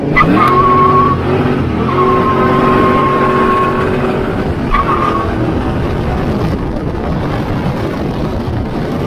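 A Ford Mustang Foxbody running Megasquirt engine management pulls hard on the street, its loud engine droning with rising harmonic tones and a brief tire squeal, close and steady with no talking.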